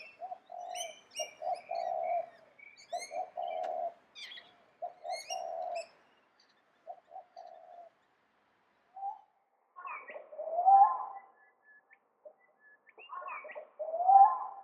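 Spotted dove giving soft, rhythmic cooing phrases in repeated bursts, fairly close and clear against a quiet background, later joined by a few higher, wavering calls.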